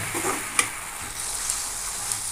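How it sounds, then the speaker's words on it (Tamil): Green chillies and black nightshade greens sauté in a hot pan with a steady sizzle, while a spatula stirs with a few soft scraping taps; no one talks. "பச்சை மிளகா ஆட் பண்ணி நல்லா இதில் இது கூடவே சேர்த்து நல்லா வதக்கிங்க"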